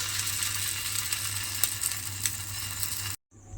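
Chicken pieces frying in hot oil, a steady close crackling sizzle with occasional sharper pops, cutting off abruptly near the end.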